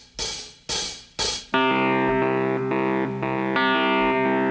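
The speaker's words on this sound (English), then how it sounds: "And there you go with the backing track mix from 2011." From the 2011 backing track mix of a song: three short, evenly spaced percussive hits, then a sustained, bright, effects-laden instrumental chord with rhythmic swells and no vocals.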